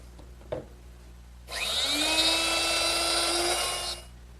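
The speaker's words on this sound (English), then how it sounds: "So I need to route out a little more material to allow for that spring." A router cuts a deeper, narrower mortise in wood guided by a modified jig, a loud steady high-pitched whine that starts abruptly after a faint knock and holds for about two and a half seconds before stopping.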